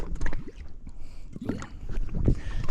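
A small fishing boat arrives and moors on calm sea, moving through water with gurgling and sloshing, wind buffeting the microphone, and a few thumps against the hull.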